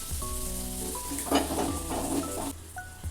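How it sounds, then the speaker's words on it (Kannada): Corn kernels fry with spices in a pan, giving a close, crackling sizzle with spatula scrapes and a few light clinks against the metal. "ನೋಡಿರಿ ನಮ್ಮ ಕಾರ್ನ್ ಎಲ್ಲ ಫ್ರೈ ಆಗಿದಾವ"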